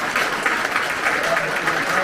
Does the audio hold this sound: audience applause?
yes